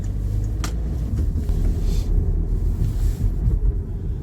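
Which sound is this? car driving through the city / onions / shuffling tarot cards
car driving through the city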